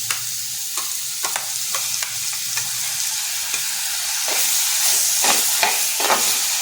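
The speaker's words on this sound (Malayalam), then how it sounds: "ഇതൊന്ന് നന്നായി വഴറ്റിയെടുക്കാം. അതിൻ്റെ കൂടെ ഇഞ്ചി വെളുത്തുള്ളി പേസ്റ്റ് ചേർക്കുന്നുണ്ട്." Onions with salt and ginger garlic paste sautéing in a hot pan for chicken chintamani, a steady loud sizzle and hiss broken by repeated scraping stirs of the spoon, with no talking.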